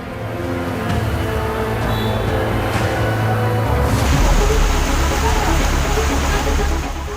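Heavy rain and running rainwater flooding inside Jodhpur railway station, a steady loud wash of broadband noise lasting throughout, with indistinct voices and faint clatter mixed under it.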